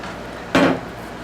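A single ladleful of spicy black bean soup scooped from a pot, a short clattering knock of the ladle against the pot rim and a brief wet slosh, close and alone.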